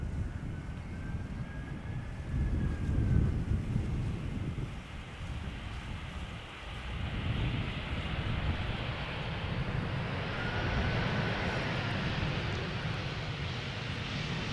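An easyJet airliner arriving at Schiphol from Alicante gives a low, diffuse rumble mixed with wind, sustained and moderately distant, with no clear peaks.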